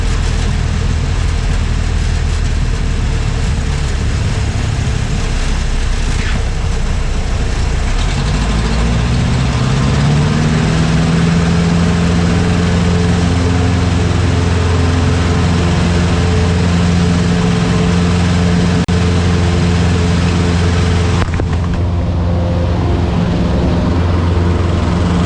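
Tailwheel light aircraft engine holding a steady drone through a climb, loud and close inside the cabin, with a low rumble and sustained tonal hum that shifts pitch slightly partway through, continuous with no talking.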